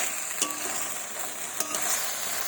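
Mutton being stir-fried with ground spice paste and a splash of water, a steady close sizzle with soft scraping of the spoon at intervals, no voices.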